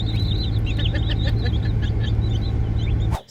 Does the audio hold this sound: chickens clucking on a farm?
yes